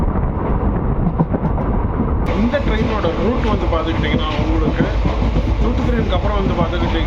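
The Thoothukudi–Mettupalayam bi-weekly express train runs by close and loud, a dense continuous rumble with rhythmic rail clatter. Someone talks over it.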